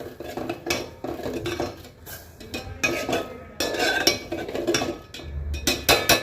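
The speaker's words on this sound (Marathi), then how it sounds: "आता पुन्हा एकदा चांगला मिक्स करून घ्यायचा आहे" A spoon scrapes and clinks against a pot while pumpkin is stirred into creamy milk for kheer, in close, repeated metallic strokes with brief pauses between bursts.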